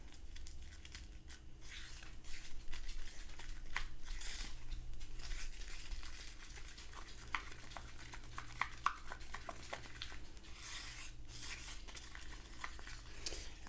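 Colouring is stirred into pistachio-coloured spackle, giving a soft, continuous scraping and smearing with scattered light clicks, quiet and close, with a low steady hum beneath.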